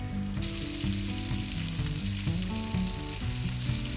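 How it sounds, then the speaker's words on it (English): Steady, loud sizzling of vegetables, starting with ginger, frying in hot oil fills the clip continuously, with no voices. "Take them out and start frying your vegetables, starting with the ginger."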